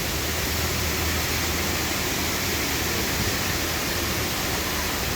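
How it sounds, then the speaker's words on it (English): Waterfalls along the ride river at Opryland produce a steady, dense rush of falling water, loud and unbroken throughout. "Once we come out from under this bridge, we're going to have the waterfall portion of the river"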